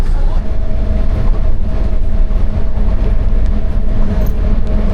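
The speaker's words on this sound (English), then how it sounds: "We're on the little train going to the gate." Steady rumbling of a small airport shuttle train in motion, with a constant low hum and faint rattling throughout; loud and enclosed, no clear talking.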